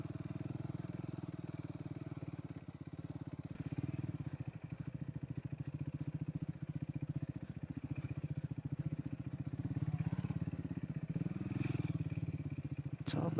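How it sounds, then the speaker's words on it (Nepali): A Triumph Scrambler 400X motorcycle rides off-road on the route from Kathmandu to Gufa Dada, its engine putting out a steady, low pulsing thrum with rhythmic chugging, rising slightly near the end, with faint rattles over rough ground. "बाइक जान्छ मजाले"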